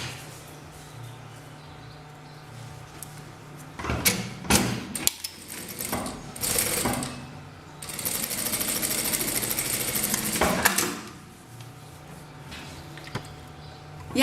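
A sewing machine stitching fabric scraps for a 3D rug, running in a few short bursts of rapid mechanical whirring against quiet background hum.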